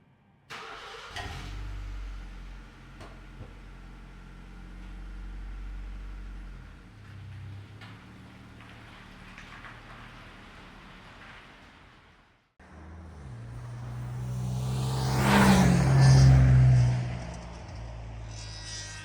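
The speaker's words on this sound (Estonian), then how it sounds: "Mootor käis nii libedalt, reaalselt jõudu oli rohkem." A car engine runs after an oil change: a steady idle hum, a brief cut to near silence, then the engine restarts and revs up to a louder, rising roar before easing back. No one speaks.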